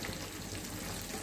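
Pieces of fried fish go into a pan of simmering Rayalaseema fish curry gravy, giving a soft continuous sizzle and bubble, faint and close, with no voices.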